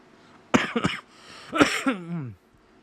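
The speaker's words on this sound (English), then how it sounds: "I am coughing right now" Two short coughs close by, the second trailing into a voiced, throaty rasp, with quiet pauses around them.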